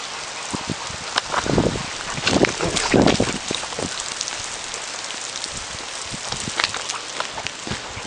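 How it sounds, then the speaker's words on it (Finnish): Steady rain pattering hard on a surface, with a few louder splashy bursts in the middle. "Sataa vettä kaatamalla."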